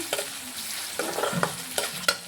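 Chopped onion and green chillies fry in oil in a pan, a steady close sizzle broken by a few scraping stirs, with no voices.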